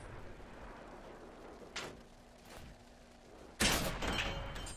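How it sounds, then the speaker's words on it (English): A tank cannon shot in World of Tanks on Xbox 360, a sudden sharp blast near the end that rings on over a quiet rumbling background, with two softer muffled thuds earlier. "tried to shoot him in his track"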